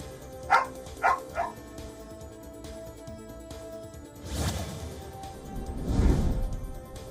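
Sniffer dogs from search-and-rescue teams at a disaster rescue site give three quick, sharp barks close by, followed by rumbling, crashing background noise.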